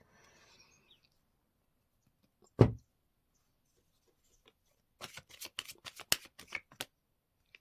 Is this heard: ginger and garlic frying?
no